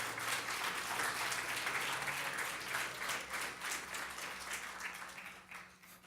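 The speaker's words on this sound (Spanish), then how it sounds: "Si le vas a dar un aplauso fuerte al Rey." A church congregation gives a loud, sustained round of applause for the King, dense clapping filling the room and slowly tapering toward the end.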